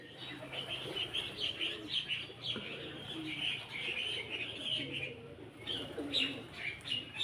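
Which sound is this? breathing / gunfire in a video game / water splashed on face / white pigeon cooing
white pigeon cooing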